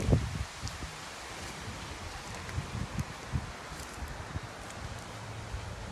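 Wind gusts rustle tree leaves outdoors after a storm has brought down limbs, a steady broadband hiss with soft irregular swells and a few faint knocks, no voices.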